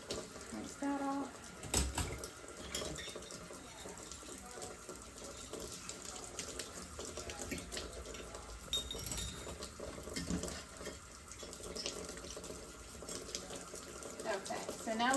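Surgical instruments rinsed under a running sink tap in a clinical setting, steady water flow with occasional metallic clinks of tools knocking together, a voice talking over it.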